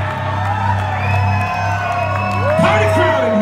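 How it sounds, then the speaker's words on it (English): A party crowd cheers and whoops in a late-night room, with shouts and rising whistles over a steady low hum, loud and close, continuous throughout with a swell near the end. "Party crowd in here."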